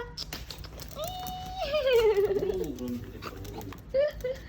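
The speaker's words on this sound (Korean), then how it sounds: "강아지 있다 있어." A small dog in an office near Dongdaemun, Seoul whines and whimpers in short, high, wavering sounds. People talk nearby at the same time.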